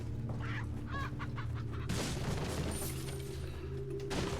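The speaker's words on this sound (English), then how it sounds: "the chickens will spawn more eggs" Chickens cluck in the Resident Evil 4 video game, a few short nearby clucks over a steady droning in-game ambience, then a sudden loud burst of noise cuts in and masks them.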